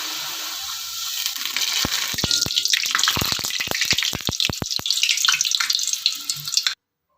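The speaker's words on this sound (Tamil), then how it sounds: "எண்ணெய் காஞ்சிருச்சு. இப்போ மாவு சேர்த்துக்கலாம். பூரி ரெடி பண்ணிடலாம்." Beetroot poori dough hisses and crackles in hot oil, a steady loud sizzle with quick popping spatters throughout, ending abruptly.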